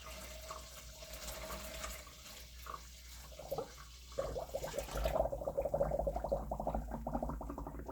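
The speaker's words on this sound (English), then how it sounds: "I'm just dumping all the juice in here carefully so I don't lose the corners of the cheesecloth." Cheese whey is poured through cheesecloth into a colander, a continuous liquid splash and trickle that grows louder and more bubbling partway through, close and without speech.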